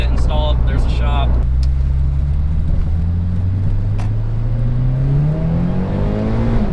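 Engine of a Scion FR-S fitted with a Vortech supercharger, loud and close as it rises steadily through the rev range, the pitch climbing over several seconds with a whine on top, without a break.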